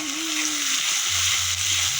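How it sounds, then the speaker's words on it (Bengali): Ginger added to a pan of fish curry sizzles steadily, close and continuous, with faint stirring and a low hum underneath; no talking. "এখন আমি আদা দিলাম"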